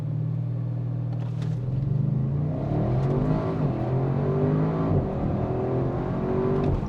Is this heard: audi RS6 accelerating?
yes